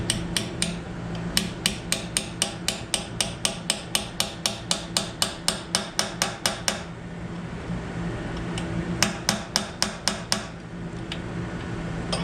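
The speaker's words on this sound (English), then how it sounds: "I'll bring over the pieces and I'll tap them in." Hammer tapping metal pieces into a governor bracket for an Economy 5hp engine in a workshop, a rapid run of sharp, evenly spaced metallic taps, a pause, then a shorter burst of taps.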